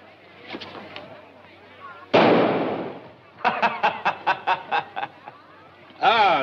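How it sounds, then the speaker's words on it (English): Gunfire in a 1940s musical film scene: one loud blast, then a rapid string of about eight sharp shots in quick rhythm, with a voice and laughter around them. "You like to shoot, no? Easy, easy shot."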